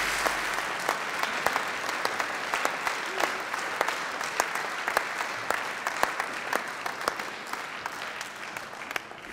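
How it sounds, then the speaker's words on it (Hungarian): Steady audience applause fills the hall for two children's choirs, a primary school choir and a music school choir, and their teachers at a city anniversary opening ceremony, dense and even with sharp individual claps throughout. "külön tapsot érdemel az Erkel Ferenc Általános Iskola kórusa, illetve a Frederik Chopin Zeneiskola kórusa, és a tanároknak is nagy-nagy taps"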